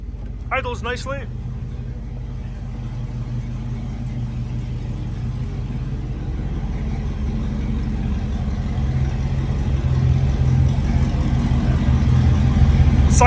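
A 1976 Dodge D300 dually truck engine idles with a steady low rumble that grows slightly louder, after a brief voice at the start.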